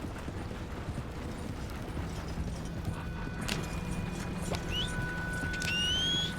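Horse hooves clip-clop at a steady gallop in Red Dead Redemption 2, a continuous rhythmic patter under low rumble, with a brief whinny and faint mechanical creaks near the end; no talking.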